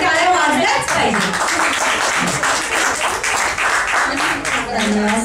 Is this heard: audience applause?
yes